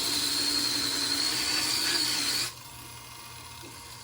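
Electric sander working down small bumps on a resin piece, a steady buzzing whir that cuts off abruptly partway through, leaving a quieter hum.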